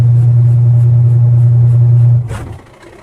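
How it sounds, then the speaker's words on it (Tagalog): A washing machine motor hums while stalled and not spinning, a loud, steady low drone that holds for about two seconds and then cuts off with a brief clunk, leaving quieter residual noise. "Kung naririnig nyo, umuugong yung motor pero hindi siya umiikot."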